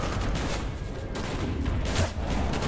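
Dense, continuous gunfire in a Call of Duty: Black Ops (2010) match, loud overlapping shots and bursts filling the whole stretch with no gaps, a steady barrage of near and distant firing.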